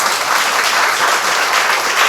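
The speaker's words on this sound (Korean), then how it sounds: "우리 박수 한번 치겠습니다." A church congregation at a Sunday service claps together in a dense, steady round of applause that holds at an even level throughout, with no voices standing out.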